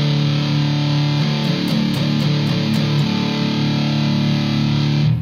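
Electric guitar through a high-gain amp with heavy distortion, thick sustained chords with a few picked changes, loud and continuous with no talking.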